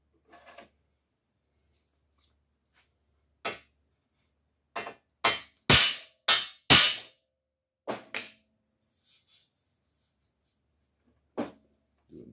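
Heavy hammer blows on a steel bumper from a 1951 Chevy in a garage, struck in spaced loud metallic clangs, some single and some in quick pairs, ringing sharply against otherwise quiet surroundings.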